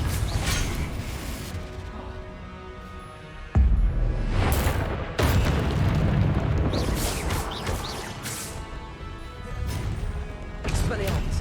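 A Confringo blasting spell from Hogwarts Legacy bursts twice in quick succession, sharp loud crashing blasts cutting into a busy bed of clanking, creaking mechanical game sounds.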